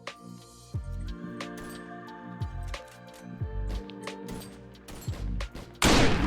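Gunfire in the online PvP shooter game Frontline Inferno, with single heavy booming shots every second or so and scattered distant cracks, then a burst of harsh noise at the end.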